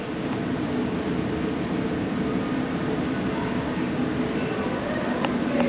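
Steady, unbroken rumble of a train riding into Saigon, Vietnam, a dense continuous roar of wheels and carriage noise that holds at an even level throughout.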